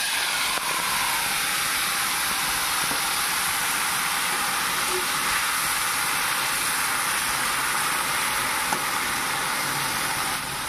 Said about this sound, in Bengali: এখন তেলে ছেড়ে দেব।